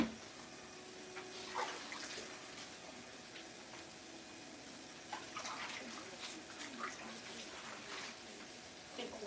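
Collard greens being washed under running water in a kitchen sink, a steady soft splashing and trickle with occasional louder sloshes as the leaves are handled, fairly quiet and close.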